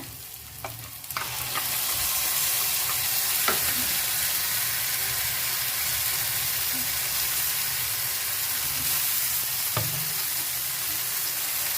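Ground spice paste fries for a village-style chicken curry, a loud, dense, continuous sizzle that swells after the first seconds and holds steady, with a few sharp utensil clicks and no talking.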